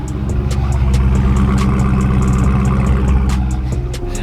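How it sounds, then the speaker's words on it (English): Ford Raptor truck engine idling close by, a steady deep rumble throughout, loud and uninterrupted, with no talking. "just listen to that idle"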